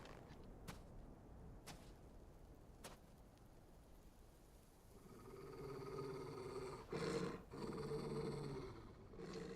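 A dog growls in Final Fantasy 16, a low rumbling snarl building in the second half with a louder burst, preceded by a few sharp clicks, heard without talk.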